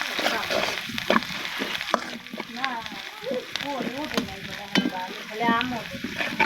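Egg beaten in with salt is stirred through frying ribbon fish, a steady sizzle overlaid with repeated spatula scrapes, while faint voices murmur in the background.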